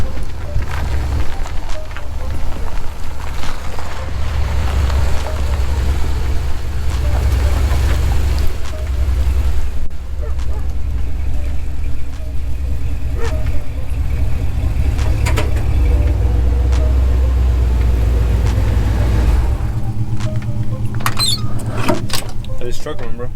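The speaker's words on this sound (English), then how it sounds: "We're pulling in the new truck right there." A pickup truck with a 1987 engine pulls in and idles, giving a continuous deep low rumble close by, with occasional rattles and faint voices, and a few clunks near the end.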